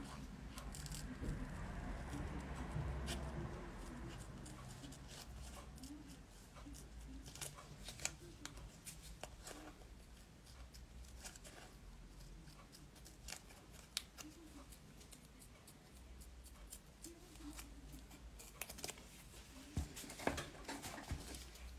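Scissors snip through a nail mold for a square nail, giving a run of small crisp cuts and papery rustles up close over quiet room noise, with no talking.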